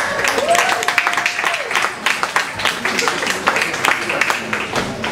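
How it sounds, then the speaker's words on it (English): An audience gives a round of applause for event sponsors, steady clapping from a crowd with talk and crowd noise mixed in throughout. "Let's give them a round of applause."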